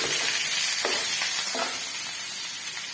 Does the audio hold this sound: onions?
yes